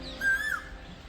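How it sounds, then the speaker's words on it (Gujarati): A single clear rising whistle of an Asian koel rings out from a mango tree over quiet outdoor ambience on a road to a school near Mahemdavad, Kheda. "કોયલ ક્યાંક ટહુકા કરે છે."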